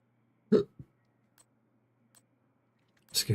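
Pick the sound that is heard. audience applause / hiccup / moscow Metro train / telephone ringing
hiccup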